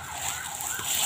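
An ambulance siren wails in a steady rising-and-falling tone, growing slightly louder as it approaches along a forest road, with no talk.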